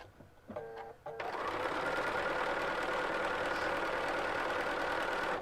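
A sewing machine running steadily while stitching a quarter inch seam on a long quilt border strip, close and continuous after a brief start, a dense even whirring hum.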